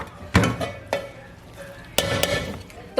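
A spoon scrapes and clinks against a pot as chicken mutanjan biryani, a sweet rice dish, is dished out into a serving dish, with a few distinct scoops and taps spaced across a quiet kitchen.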